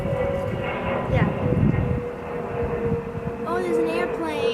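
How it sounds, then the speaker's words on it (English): An airplane passes overhead as a steady, moderately loud drone with a faint hum, heard beneath people chatting nearby. "Oh, there's an airplane."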